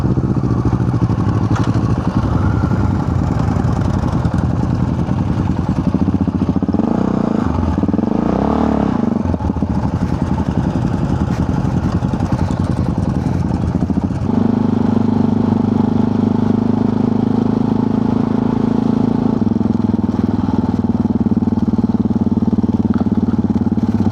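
Several motorcycles idle and rev nearby at a museum in Sigulda, Latvia, their engines rumbling steadily with a few throttle blips and a rise in pitch partway through, loud and continuous with no talk.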